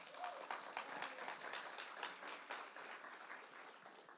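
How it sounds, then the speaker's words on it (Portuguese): A church congregation applauds steadily, a dense wash of many hands clapping at once, sustained evenly throughout without pause. "Aplauda o Senhor Jesus."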